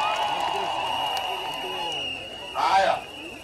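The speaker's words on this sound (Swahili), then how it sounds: "Wapi makofi ya Irene Mayaka," Rally crowd in Kisii applauding Irene Mayaka: a continuous murmur of clapping and crowd noise that swells into a brief louder burst of cheering near the end.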